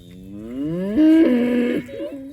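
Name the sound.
cow mooing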